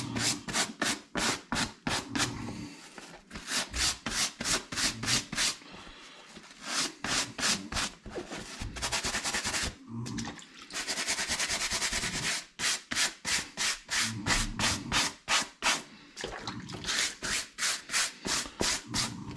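A baseball cap being scrubbed clean with a brush, giving loud, rhythmic back-and-forth rubbing strokes in steady bursts with brief pauses, close by and alone.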